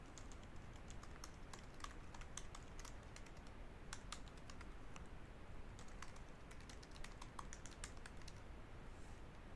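Rapid, steady keystrokes on a computer keyboard while writing code, a dense stream of close clicks running through the whole stretch with no talking.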